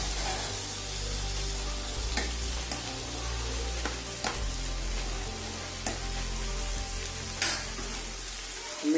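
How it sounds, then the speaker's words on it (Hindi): Poha tossed into a hot pan with carrots sizzles continuously and fairly loudly, with scattered clicks and scrapes of stirring over the steady frying hiss. "मैं इसमें पोहा डालूंगा।"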